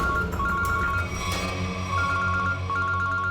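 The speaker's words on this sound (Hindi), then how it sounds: "एसीपी सर का फोन।" A phone rings with a repeating electronic tone, steady and fairly loud throughout, over background music with no talking.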